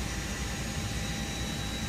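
Jet engine spooling up on an Airbus A320 in the Prepar3D flight simulator, a steady broadband roar with a faint high whine, continuous and even throughout with no talk.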